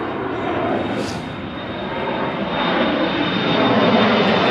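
A Douglas DC-6 propeller airliner flies low overhead at Anchorage, its engine drone loud and continuous and swelling slightly toward the end, with no voices.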